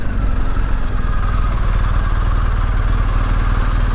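A motorcycle with modified suspension idles close by, its engine giving a steady, loud, low throbbing rumble with no breaks.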